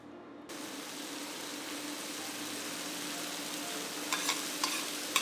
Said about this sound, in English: stir fry it till it's a little brown on the outside